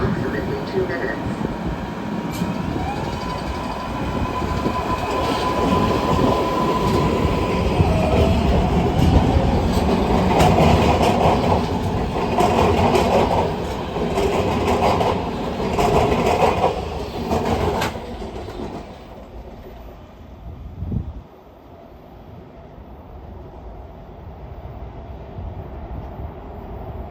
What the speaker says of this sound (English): A southbound Gold Line train will arrive in approximately 2 minutes.